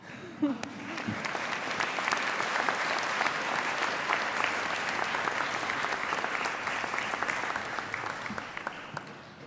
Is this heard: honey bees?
no